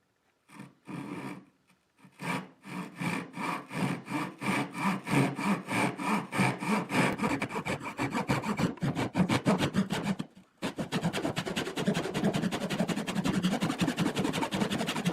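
Hand saw cutting along marked lines to taper the foot of a classical guitar neck, a steady rhythm of rasping back-and-forth strokes, close and loud, with a short pause near the end before the sawing resumes faster.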